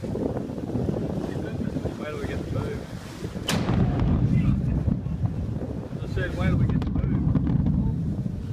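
A volcanic explosion recorded from a sailboat in Blanche Bay, heard as a sudden sharp crack followed by a deep rolling rumble, set among heavy wind buffeting the microphone and water noise, with people talking faintly aboard.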